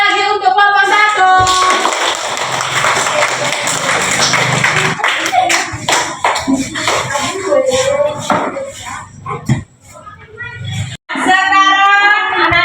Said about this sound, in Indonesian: tepuk tangan sekali lagi untuk kelompok 1